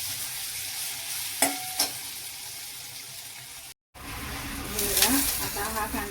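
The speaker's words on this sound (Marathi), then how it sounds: "कांदा छान भाजून घेऊया।" Onion frying in a pan while being stirred: a steady sizzle with a couple of sharp scraping knocks, a brief break, then louder bubbling and stirring close by.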